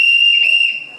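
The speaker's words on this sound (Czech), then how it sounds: "Tato píštelka se jmenuje píštelka a zní takto." A referee's whistle at an improv show gives one sustained, shrill, steady tone at close range, tapering off near the end, alone without talk.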